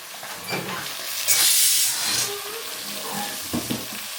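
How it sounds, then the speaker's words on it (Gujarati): Hot oil tempering with curry leaves for a bottle gourd and potato curry gives a sudden loud hiss and sizzle that flares, then eases into a softer crackle close by. "તો આ વઘારી નાખીએ દૂધીનું શાક."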